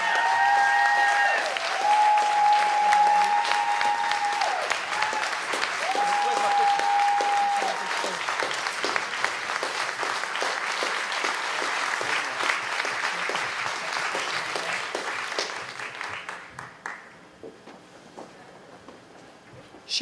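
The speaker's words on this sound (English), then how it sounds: "Would you clap your hands" A crowd claps loudly and steadily for a long stretch, with occasional whistles and cheers, before the applause fades out.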